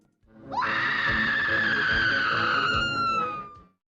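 A woman screams in the horror film Re-Animator: one long, loud, piercing cry that rises sharply, holds a steady high pitch for about three seconds, then fades out, heard alone.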